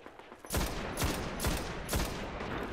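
Gunfire aimed at the armored legs of the Devil Walker in the Destiny beta's Devil's Lair dungeon: four loud, close weapon bursts in a steady rhythm, each sharp crack followed by a short tail, with no talk over them.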